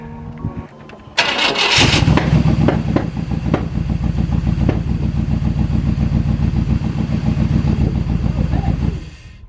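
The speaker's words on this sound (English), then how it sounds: "I'm hoping this thing will run finally." A Chevrolet K1500 pickup truck engine, unstarted for eight years, cranks briefly, catches, and roars to life, then settles into a loud, steady idle close by.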